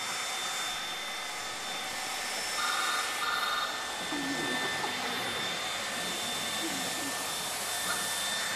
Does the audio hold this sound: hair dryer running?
yes